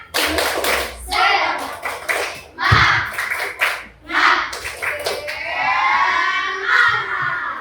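Children in a classroom doing the tepuk semangat clapping chant, with rhythmic bursts of hand claps alternating with loud shouted chanted words from the group, all close and lively.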